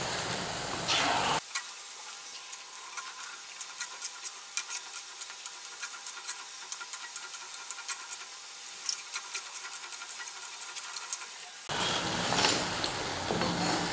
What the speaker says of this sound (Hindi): ये सारे फ्राई हो गए हैं